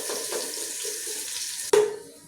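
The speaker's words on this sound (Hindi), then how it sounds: "नॉर्मल आँच में ही मैं प्याज को फ्राई कर रही हूँ" Onions frying in a pan over a normal flame, a steady broadband sizzle throughout with a brief louder clatter near the end.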